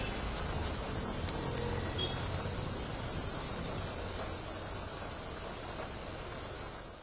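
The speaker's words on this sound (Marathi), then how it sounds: "मुसळधार पाऊस झालाय आणि पुणे शहराला या पावसानं झोडपून काढलंय" Heavy downpour over Pune city streets, a dense steady hiss of rain on surfaces with a low engine rumble of traffic underneath, fading slightly toward the end.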